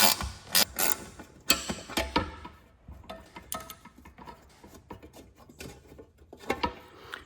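Ratchet wrench working a 9/16 bolt on a C3 Corvette headlight assembly set in pot metal, with close, crisp clicking bursts and metallic rattles in quick irregular runs.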